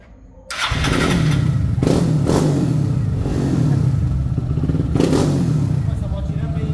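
A Honda Fan 160 motorcycle fitted with a quickshifter fires up and accelerates, engine revving in rising surges close by, with voices talking over it.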